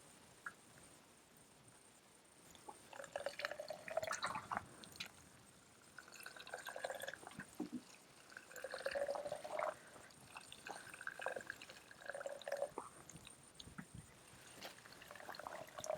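Water drips and trickles irregularly from a watering setup among allotment strawberry and kale plants, escaping where a fitting isn't seated properly, in soft, close patters scattered across the quiet.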